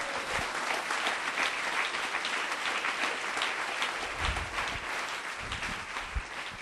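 A church congregation clapping at a sermon, a dense, sustained round of applause from many hands that fills the space evenly, steady and close for several seconds.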